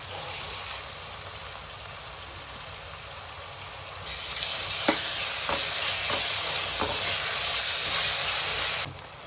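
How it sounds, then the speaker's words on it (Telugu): Garlic and ginger paste frying in hot oil, a continuous bright sizzle that swells midway as it is stirred, with several sharp scraping taps of a spoon against the pan, then cutting off just before the end. "అల్లం పేస్ట్ అందులో వేసి దాన్ని బాగా కలిపి పచ్చివాసన పోయేదాకా దాన్ని మగ్గనివ్వాలి"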